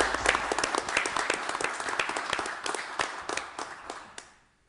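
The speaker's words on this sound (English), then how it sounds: "let's show them our gratitude by a little applause for" Audience applause for community volunteers at a municipal council meeting: a dense, steady wash of many hands clapping that fades out near the end.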